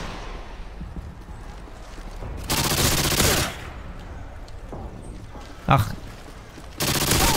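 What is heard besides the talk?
rapid gunfire from a fast-firing weapon in the video game Modern Warfare 2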